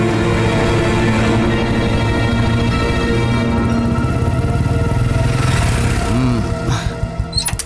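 A motorcycle engine idles steadily close by, a continuous low rumble that persists under the scene and tapers off near the end.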